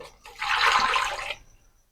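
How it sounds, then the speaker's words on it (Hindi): Water poured from a bowl into a pressure cooker pot while making pulao, a single rushing splash lasting about a second, close and fairly loud with no talk over it. "अब इसमें ऐड करते हैं हम 3 बोल पानी"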